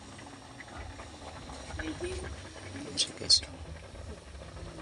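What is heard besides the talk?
water boiling in a cooking pot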